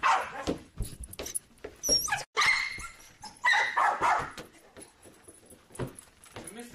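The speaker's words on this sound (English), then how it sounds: "I'm sorry for the barking. There is gonna be some barking." A corgi barks repeatedly in short, excited bursts while playing, close by, with jingling and rustling between barks.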